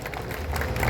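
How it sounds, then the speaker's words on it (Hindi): Crowd applause at an Akhil Bharatiya Kavi Sammelan during Kajali Teej in Bundi, a dense, steady clapping from a large audience honouring a veer ras poet, filling the whole second and swelling slightly toward the end. "एक बार आपके लिए जोरदार तालियां बजा दीजिएगा"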